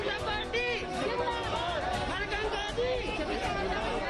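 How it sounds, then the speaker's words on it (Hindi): A crowd gathers around a politician on a door-to-door campaign in Kairana, with a steady, busy babble of many voices and a voice talking over it. "जिसमें अच्छी खासी भीड़ जुटी थी।"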